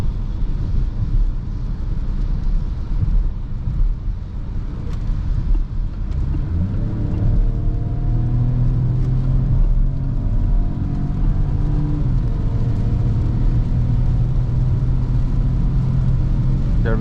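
A Peugeot 2008 GT PureTech engine drones and builds steadily as the car accelerates onto the highway, a low continuous rumble with rising tone heard from inside the cabin, with no talking.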